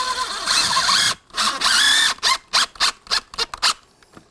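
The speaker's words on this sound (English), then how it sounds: "we're basically drilling our own hole for the screw to drive in" A power drill drives a screw into a window frame, first in a long steady whir, then in a string of short, sharp bursts as the trigger is pulsed near the end, loud and close with no talk.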